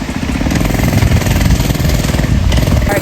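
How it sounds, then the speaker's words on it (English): A small mini bike engine runs loud and close with a rapid, buzzing, chattering putter that holds steady throughout, with no pauses or voices. "I'm taking the mini bike for a ride"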